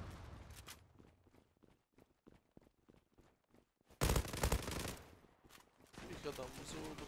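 Shooter video game gunfire from an M4-68 rifle: quick bursts of sharp shots with pauses between them, then a louder, denser stretch of fire with some footstep-like sounds. Faint voices come in near the end.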